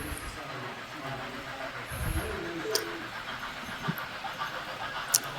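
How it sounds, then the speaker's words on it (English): An HO-scale model steam locomotive pulling a passenger train chugs quietly past on a layout, with a soft hiss and light rail clicks, a few sharp ticks standing out against the faint rolling sound. "here comes a steam engine pulling a passenger train through the staging area"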